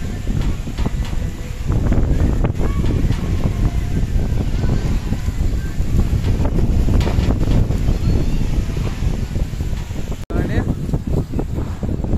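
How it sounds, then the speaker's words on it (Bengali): A strong windstorm at a railway station roars across the microphone as continuous loud buffeting, with a person talking over it. "বাট প্রচণ্ড ঝড় উঠেছে আর প্রচণ্ড ধুলো উঠছে।"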